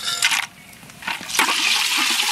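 Whole garam masala tipped into hot mustard oil in a wok, bursting into loud crackling sizzle that comes in surges and then settles into a steady hiss.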